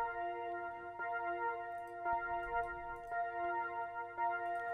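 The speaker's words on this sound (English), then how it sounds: "it's a slow synth, it's a pad" A soft, sustained synth pad in an Amapiano track holds steady tones, with faint rhythmic ticks repeating about once a second underneath.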